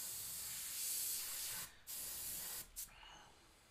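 An airbrush sprays pinkish white paint over a custom-painted skull and fire design. A steady, close hiss runs throughout and cuts out briefly twice as the trigger is released and pressed again.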